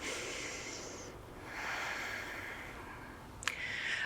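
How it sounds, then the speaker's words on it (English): Slow, soft breathing during a yoga session, a quiet airy inhale followed by a long exhale with faint hiss, close and low in level, with a brief sharp click near the end. "Just take 2 more breaths."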